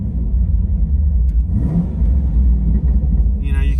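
Chevy SS with a Holden conversion revving in place, a loud, deep engine rumble rising and holding steady near the microphone, with a voice briefly audible toward the end.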